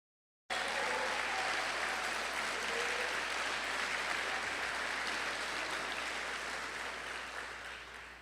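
Audience applause at a prison education program commencement, a graduation ceremony: sustained clapping from a large crowd that starts abruptly, holds steady for several seconds, then gradually tapers off, heard fairly distant and soft.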